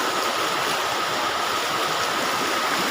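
Rushing floodwater after heavy rain pours steadily in a loud, continuous broadband roar, close and unbroken, with no voices.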